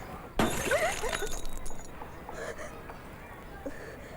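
A thrown glass bottle shatters with a sudden loud crash, and shards tinkle and scatter for a moment afterward while a voice talks over the tail.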